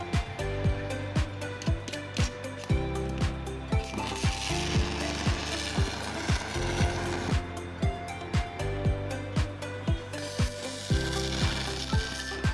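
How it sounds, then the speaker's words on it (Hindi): MMA-315 heavy-duty stick welding plant running an arc weld above 100 amps, a continuous crackling sizzle broken by regular sharp pops and ticks, close and fairly steady, with no talk. "तो ये देख लें जी, इसकी वेल्डिंग आप चेक कर सकते हैं।"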